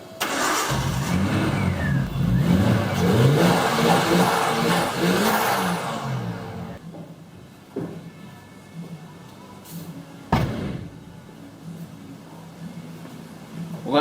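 A car with a misfire, just repaired, cranks on its troublesome starter motor, then catches and runs loudly up close before settling to a quieter idle, with a couple of sharp knocks and a brief voice.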